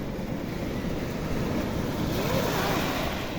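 Ocean waves breaking on a shore, a continuous broad roar of surf with wind buffeting the microphone, building gently in the latter part, with no voices.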